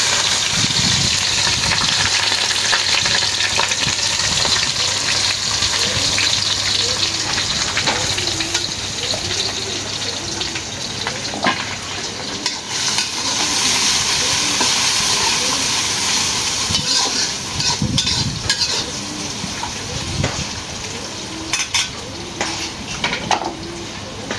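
Garlic and onion frying in a pan for a duck curry cooked with coconut: a continuous hissing sizzle with utensil and pan clatter scattered through, no talk.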